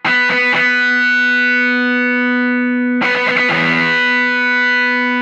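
Heavily distorted electric guitar with a thick fuzz tone: a few quick picked notes ring out and sustain, then another burst of chords rings out and fades.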